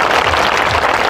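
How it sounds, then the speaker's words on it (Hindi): An audience at a school's annual function applauds loudly, a dense, continuous burst of clapping lasting about a second. "एक बार एडिसन के लिए जोरदार ताली होनी चाहिए।"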